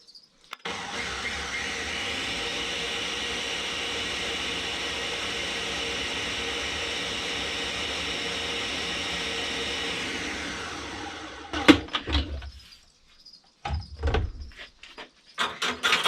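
A blender whirs steadily for about ten seconds while mixing gecko food, then cuts off, leaving a few clunks and handling knocks close by.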